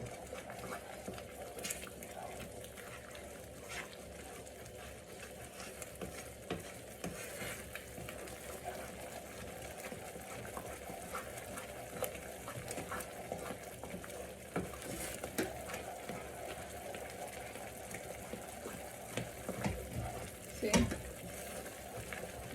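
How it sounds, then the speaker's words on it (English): Steady thick bubbling and sizzling from a pot of wheat halwa, with soft scraping of stirring throughout and occasional louder pops near the end. "now it's bubbling up."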